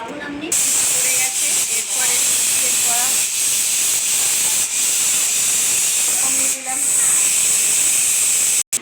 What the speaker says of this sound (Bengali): সিটিটা পড়তে পড়ার জন্য অপেক্ষা করছি